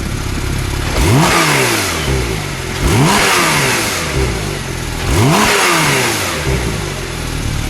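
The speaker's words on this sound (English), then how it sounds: "Hank, give us light rev, shall we?" A 2019 Porsche 911 Turbo S Cabriolet Exclusive Series engine is blipped three times from idle, each rev rising sharply and falling back, loud and close with the idle rumbling between and no speech.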